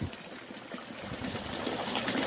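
Water trickling and splashing steadily over lava rock in a pump-fed garden waterfall, a close, continuous wash of sound with no voices.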